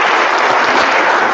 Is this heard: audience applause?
yes